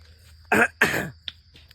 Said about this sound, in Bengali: কাশি আসছে